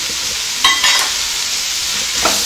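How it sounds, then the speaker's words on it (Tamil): Vegetables with chili powder and garam masala sautéing for hotel-style veg noodles, a steady sizzle broken by a few short scraping stirs, close and alone. "கொஞ்சம் நல்லா வதக்கி விட்டுக்கலாம்."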